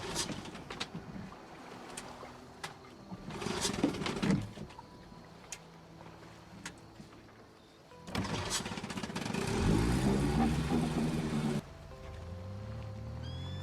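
A boat engine at a pier in the Project Zomboid video game cranks and starts, then settles into a steady loud idle hum after a few attempts, with no talking.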